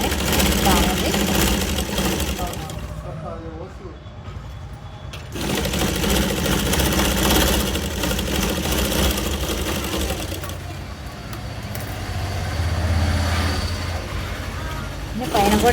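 A domestic sewing machine stitching the front part of a lined blouse, running in a continuous rapid whir that pauses briefly and then resumes, close and fairly loud, with someone talking over it.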